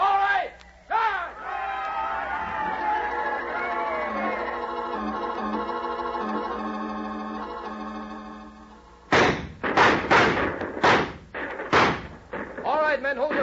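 In an old-time radio drama, a crowd of soldiers charges, letting out a loud, sustained battle cry of many overlapping voices. Several sharp gunshots and heavy slams follow in a quick, uneven cluster.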